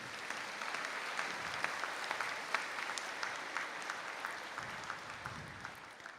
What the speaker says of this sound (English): And a round of applause for our graduates.